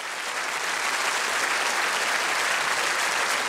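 A theatre audience applauds during an evening honouring actor Jaecki Schwarz at the Berliner Ensemble, a dense, even wash of clapping that holds steady and loud throughout with no voices on top.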